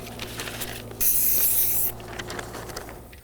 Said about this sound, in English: he is spray painting out the Grecian corners